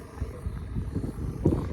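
Strong wind in an open farm field buffeting the microphone in low, uneven rumbling gusts, with one harder gust near the end.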